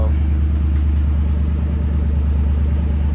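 A modified Ford Mustang engine idles close by with a steady, deep low rumble that holds evenly throughout, with no clear revving.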